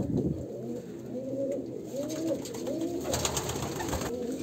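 Kalanka pigeons of an Andhra pure blood line coo in rolling, repeated phrases close by, a low throaty burbling that continues for several seconds without any talking.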